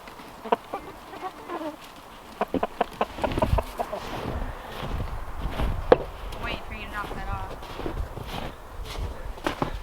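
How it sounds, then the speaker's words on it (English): Scattered hen clucks and short calls ring out over a busy outdoor background, with sharp intermittent knocks and rustles; a voice speaks now and then. "You chickens waiting for your afternoon treat."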